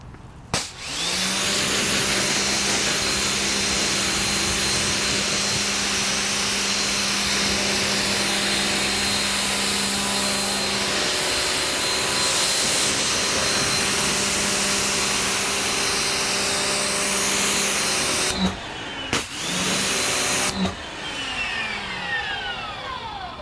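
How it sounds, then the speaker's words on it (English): A pressure washer runs continuously during a touchless car wash, a loud, steady motor-and-spray roar that holds for most of the stretch, then breaks off with a few brief gaps near the end. "you can go ahead and turn off the pressure washer"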